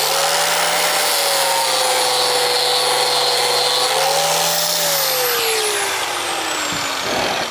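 An angle grinder works a weld spot on a metal sculpture, a loud continuous high whine whose pitch sags slightly as it bites, then winds down near the end, with no talking.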